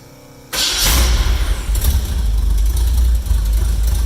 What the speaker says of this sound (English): We'll fire it up here in a minute. Start is pretty simple. You just hit the switch here.